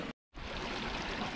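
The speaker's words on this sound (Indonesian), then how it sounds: "Ini air banyak banget mengalir" Plenty of water flows steadily beside village rice fields, a dense, even rushing wash heard close by, broken briefly by a short dropout near the start.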